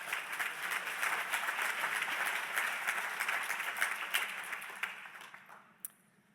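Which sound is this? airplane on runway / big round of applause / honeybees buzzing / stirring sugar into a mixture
big round of applause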